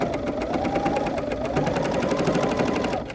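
A domestic sewing machine stitching fabric runs steadily and close up for about three seconds, with a fast, even mechanical whir and rapid needle ticking throughout.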